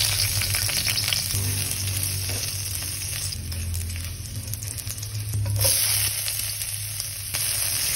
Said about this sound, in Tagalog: Ating bawang, sibuyas, kamatis, at maggigisa na tayo.